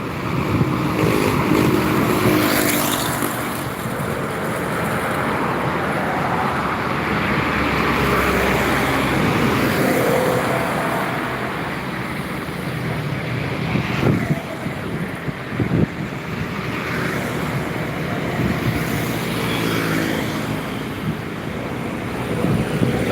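An LPG tanker truck passes on a road, its engine rumble and tire roar rising and falling amid steady traffic noise and wind buffeting the microphone.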